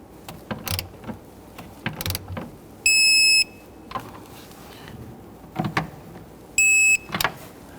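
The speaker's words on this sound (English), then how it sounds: "Torque these down to 12 foot-pounds." A wrench tightens the brake master cylinder nuts on a 2011-2015 Kia Sorento, giving sparse close metallic clicks and ratcheting ticks, with two short high electronic beeps between them in a quiet garage.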